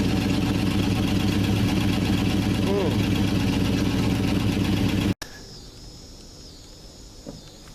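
A 1969 Dodge Dart V8 idles close by with a steady, loud, lumpy rumble for about five seconds, then cuts off abruptly, leaving faint background noise and a brief soft knock.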